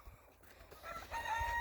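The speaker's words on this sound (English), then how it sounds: "Then we got that wild chicken." A wild chicken on a farm calls once, briefly near the end, faint and distant over outdoor background noise.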